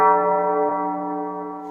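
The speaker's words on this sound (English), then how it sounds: "So very ambient, very dark gospel bell." A single dark, sustained gospel bell tone in FL Studio rings out and slowly decays with a lingering reverberant wash, heard alone.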